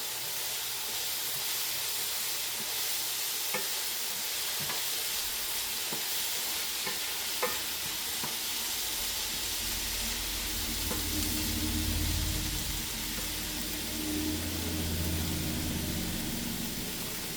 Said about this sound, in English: Okay, I'm gonna stir that up in here.